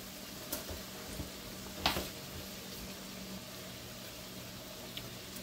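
Mushrooms sizzle in melted butter in a pan, a steady low crackling hiss with a few faint clinks and a brief stir, quiet and without talk.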